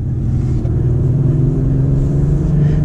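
A 2021 Acura TLX Type S in sport mode gives a steady, deep engine rumble inside the cabin, loud and unbroken throughout with no voices.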